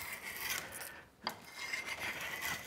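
Drawknife shaving a wooden Windsor chair spindle down to size, with long close rasping strokes and a short pause partway through, no voice.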